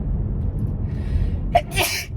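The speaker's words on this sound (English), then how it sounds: "I think I have to sneeze" A single close sneeze bursts out after a short breathy build-up, over a steady low background hum.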